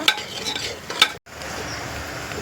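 Spice paste with garam masala, red chilli powder, Agri Koli masala and turmeric fries in oil for sprouted matki misal, a steady close sizzle with two sharp stirring scrapes early on and a brief dropout midway.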